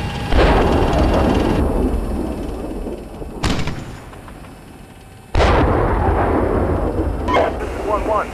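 In the Steel Beasts Pro tank simulator, heavy gunfire and artillery pound a tank, giving loud sustained rumbling roars broken by sharp, booming impacts at close range.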